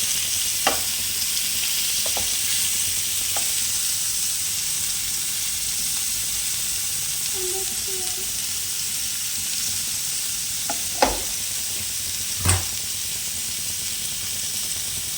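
Onions frying in oil for paneer tikka give a steady close sizzle with faint stirring scrapes, a few sharp clinks of a utensil against the pan punctuating the hiss.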